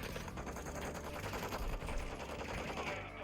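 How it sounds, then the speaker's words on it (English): A submachine gun fires in a video game as a steady, rapid rattle of shots, fairly faint and held at an even level for a few seconds. "time to try the SMG"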